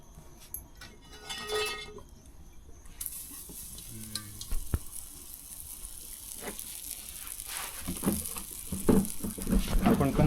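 Egg masala sizzling in a pan over a wood-fired stove, a steady hiss with scraping stir strokes and metal clinks that grow busier toward the end, heard close and without talk.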